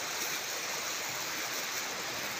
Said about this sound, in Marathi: पाणी झुळझुळ वाहणार.